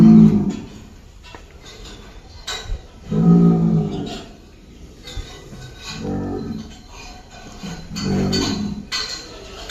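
Cattle, Australian and crossbred animals, penned at a cattle farm ahead of Qurbani, give several low, drawn-out moos at intervals, fairly close, with faint clinks and background noise between calls.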